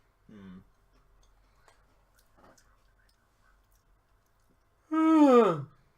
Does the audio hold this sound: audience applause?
no